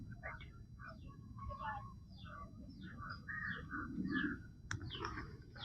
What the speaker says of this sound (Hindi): कोयल गा रही है।